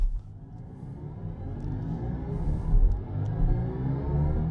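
A 2026 BMW iX3 electric SUV launching hard from 0 to 100 km/h in sport mode, a steady rising whine and low road rumble building continuously from inside the cabin with no talk.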